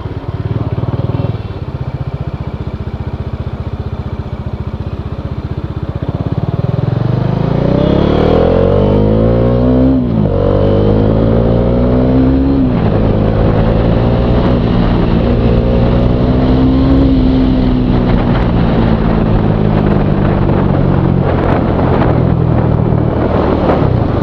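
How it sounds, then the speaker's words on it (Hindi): A 2019 Bajaj Dominar 400 motorcycle being ridden, its engine loud and close, rising in pitch through several gear changes with throttle sweeps, wind rushing over the microphone throughout and no talk. "पावर थ्रॉटल रिस्पॉन्स काफ़ी अच्छा है इस बाइक में और क्लच भी बहुत स्मूथ है"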